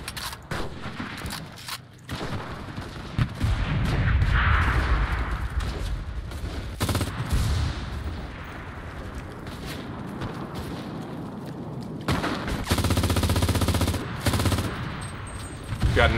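MG42 machine gun firing in the WWII shooter Enlisted: long, loud, rapid bursts of automatic fire with a dense ripping rhythm, brief pauses between bursts and other distant gunfire and blasts around it.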